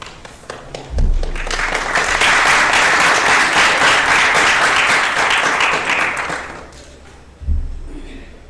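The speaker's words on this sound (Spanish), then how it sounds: "Un fuerte aplauso." Audience applause swells and holds for several seconds at a cosplay contest stage, dense clapping from a crowd, framed by brief thumps at start and end.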